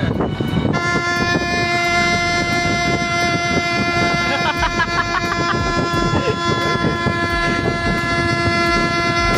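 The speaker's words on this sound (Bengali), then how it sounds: "নিজের শখের টোটোকে ট্রেনের মতো করে সাজিয়ে ট্রেনের হর্ন সেট করে ট্রেন চালানোর ফিল নিচ্ছে" A train-style horn fitted on a decorated toto e-rickshaw blares a long, loud multi-tone blast that starts abruptly and holds for several seconds, with voices and street noise underneath.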